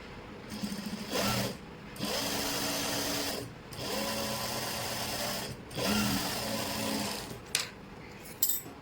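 A sewing machine stitches a sleeve seam in repeated bursts of motor whir, separated by short pauses, close and steady with no talking.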